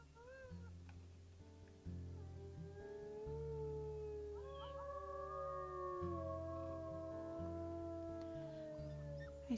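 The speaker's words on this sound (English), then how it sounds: "maybe Nyx and Loki are howling to make sure everything's okay" Wolves howling in the video game WolfQuest, several long overlapping wavering howls from more than one animal, moderately close and heard alone over a low background drone.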